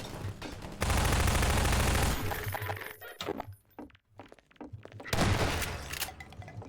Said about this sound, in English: the AI is being told to target the windows, shoot through